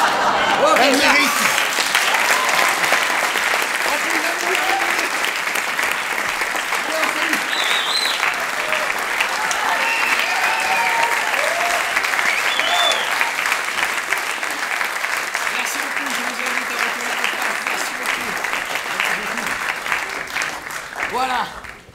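A theatre audience at an improv festival in Paris applauds performers with sustained, dense clapping that fills the room at an even level, and a few voices and cheers mix into it.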